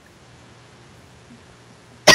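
Near silence with a faint low hum, then one short, loud cough bursts out right at the end.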